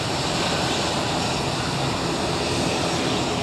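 Airliner in Isle of Man special livery at Edinburgh Airport, a steady broadband engine roar at moderate distance, constant and unbroken throughout.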